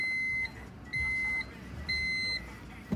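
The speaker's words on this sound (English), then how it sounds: "Wait for those two beeps." A 1998 Honda CR-V sounds its ABS diagnostic beeps, three sustained, evenly spaced electronic tones over a low engine hum, fairly clear and close.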